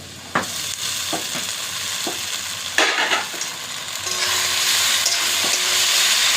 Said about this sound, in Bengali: সাবুটা দিয়ে ভালো করে নাড়বো।